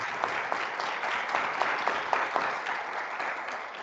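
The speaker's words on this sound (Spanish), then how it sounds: "pues un aplauso para ti" Steady audience applause from a seated crowd at a game design master's session, dense and even throughout with a few sharper claps poking out.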